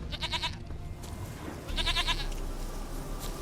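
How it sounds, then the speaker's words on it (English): A goat in The Witcher video game bleats twice, each a wavering, nasal call in short pulses, heard up close over a low, steady game ambience. "Here, goat."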